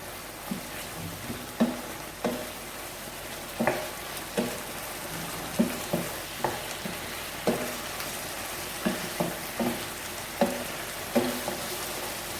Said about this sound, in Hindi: और इसे कॉन्स्टेंटली भूनते रहना है।